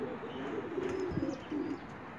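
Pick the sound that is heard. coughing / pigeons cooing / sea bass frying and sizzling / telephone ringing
pigeons cooing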